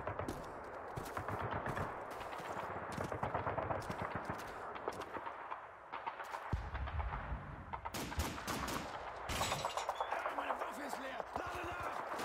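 MG 42 machine gun fire in Call of Duty 2, at a farmhouse crossroads in a World War II battle, heard as dense, sustained bursts of gunfire and artillery throughout, with shouted voices over the shooting.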